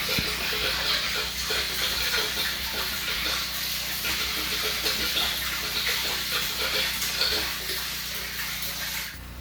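Rainwater runs by gravity from a harvesting tank as a steady, hissing stream, slowed to a modest flow, continuous and close for about nine seconds before it drops off slightly at the end.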